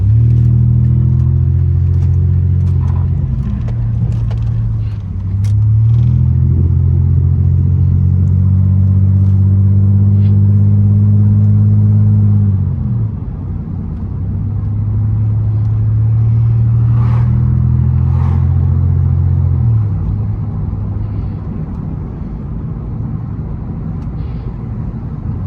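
Loud muffler-deleted Pontiac Grand Prix GT exhaust droning and revving steadily from inside the car, with a deep rumble that swells, dips briefly and builds again through two long pulls, no talk.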